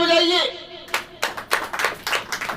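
A church congregation claps hands in a fast, uneven burst of applause right after a spoken line from a preacher, close and lively.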